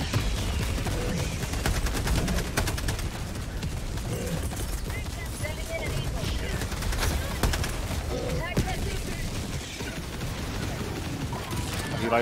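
Rifle gunfire in Helldivers 2 crackles as rapid, dense bursts of shots through a chaotic battle, with excited voices talking over the firing.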